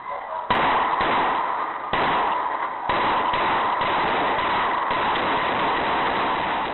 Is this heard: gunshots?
yes